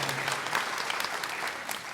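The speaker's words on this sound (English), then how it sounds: "let's give him another round of applause" A choir concert audience gives a pianist another round of applause, a brief burst of close, busy clapping that stays even throughout.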